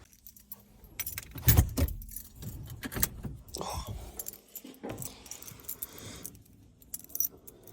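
A ring of keys for an XE Ford Falcon barn find jangles and clinks up close, with a burst of metallic rattles followed by scattered lighter jingles as the keys are sorted through.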